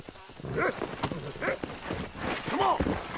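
Horse hooves clip-clop in short bursts and a whinny rises near the end, from a wild steed in the video game Red Dead Redemption, with a voice talking over the sounds.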